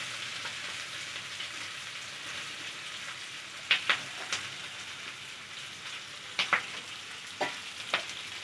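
Onions frying on high heat in a pan, a steady soft sizzle with a few brief sharp clicks and stirring scrapes scattered through it.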